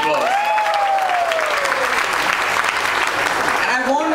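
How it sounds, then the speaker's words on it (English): Audience applause fills a comedy charity fundraiser in Mumbai, a dense steady wash of many hands clapping at full volume for about four seconds, with a few shouts and whistles rising over it. "give yourselves a massive round of applause"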